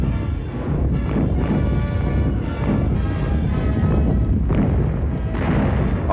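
Continuous heavy rumbling barrage of artillery and bomb blasts over Antwerp, Belgium, during WWII in September 1944, with repeated booming impacts blending into a loud, dense roar throughout.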